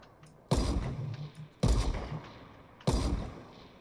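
Three heavy sniper rifle shots ring out in a shooting video game, each a sudden loud boom with a long rumbling tail, spaced about a second apart, with no talking.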